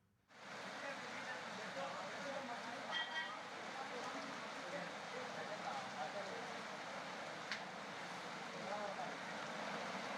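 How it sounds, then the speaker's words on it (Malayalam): Heavy rain falls beside a swollen river rising over a temporary bridge, making a dense, unbroken roar that starts suddenly and holds steady throughout. "ഇവിടെ കനത്ത മഴയാണ് കഴിഞ്ഞ ഏതാണ്ട് ഒരു മണിക്കൂറായി പെയ്യുന്നത്."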